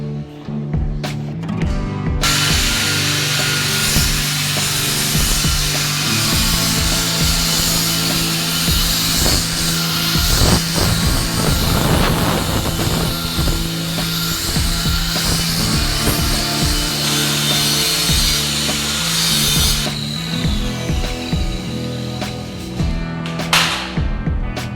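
A machine mouldes the edge of a square marble pillar, giving a loud, continuous grinding whine that holds steady for about twenty-five seconds with shifting scraping tones and no voices.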